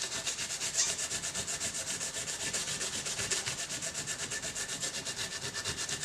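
A Scotch-Brite pad with carb cleaner scrubs a 2000 Mustang engine head in fast, even back-and-forth strokes, a close, rhythmic abrasive rasp with no talking.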